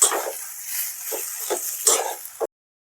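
Mashed potato with a squeeze of lemon juice mixed in a kadai for batata vada filling, giving a run of soft scraping, squelching stirs in short bursts, close and fairly loud, with no voice.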